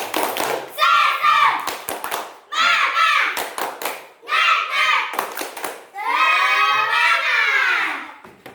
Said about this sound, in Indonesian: anak didikku sekalian, tepuk semangat